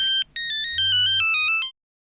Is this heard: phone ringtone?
yes